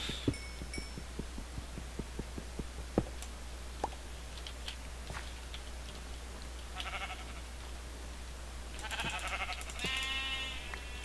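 Sheep bleating in the Minecraft video game, several short game bleats toward the end over a steady low hum and scattered clicks, with no talking.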